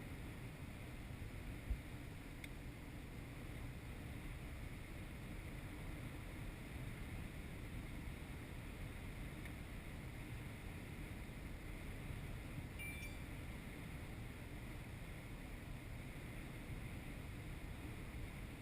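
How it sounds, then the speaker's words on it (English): Steady broadband wind rush and road roar inside a 2020 Chevy Silverado 2500HD High Country pickup driving on a very windy day, a constant even hiss with no voices. "Wind noise is surprisingly not all that bad, seeing as it's extremely windy out here"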